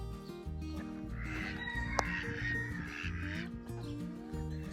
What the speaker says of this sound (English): 5 of them are black Swedish ducks, and 1 of them is a white pekin duck